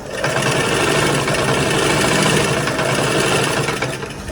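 A sewing machine runs steadily as it stitches a frill onto a saree fabric for an Anarkali dress, a continuous close whirring hum lasting the whole stretch with no talk.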